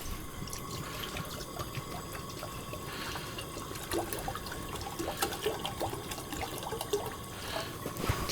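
Water is poured quickly from a bottle into a cooking pot on an outdoor stove, a steady splashing trickle that continues throughout, fairly faint, with no talking.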